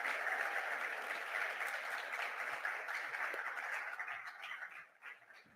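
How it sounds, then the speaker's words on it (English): Audience applause at a youth mental health symposium, a dense even wash of clapping that fills the room and then thins out and fades over the last second. "So please give a huge round of applause for these amazing people."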